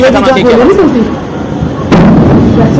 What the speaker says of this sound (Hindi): और ये धमाके की आवाज भी आप सुन सकते हैं।